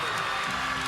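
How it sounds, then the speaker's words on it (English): A gymnastics arena crowd at a women's college meet between Oklahoma and LSU roars loudly, a dense sustained wall of cheering and applause filling the brief moment. "The crowd actually got really loud right before her back handspring layout step out."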